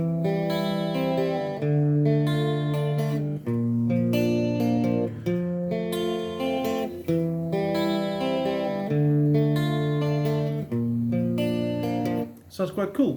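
Strummed guitar chords ring out in sustained blocks, changing every couple of seconds with a brief gap before a rhythmic final strum.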